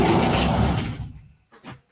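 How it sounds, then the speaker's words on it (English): A door sliding closed indoors, a rushing sweep that fades out as it shuts, followed by a short soft thud after a brief pause. "Might as well close this door now."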